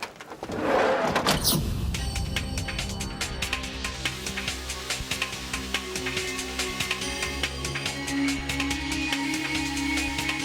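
A car door thumps shut near the start, then a road car's engine and rolling noise carry on steadily as it pulls away in pursuit, with no talking.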